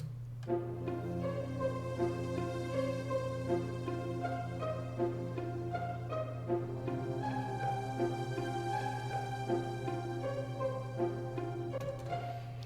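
Native Instruments Analog Dreams synth pad layered with a Kontakt string ensemble in a hip hop production, sustained chords over a steady low drone, even and full throughout with no voices.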